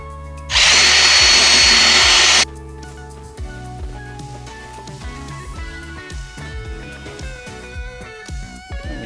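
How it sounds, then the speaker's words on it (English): A loud burst of drilling lasting about two seconds as a power drill bores through a car body panel on a Toyota GR86, then the steady whine of the drill motor running with rhythmic pulses. "We just drill through it."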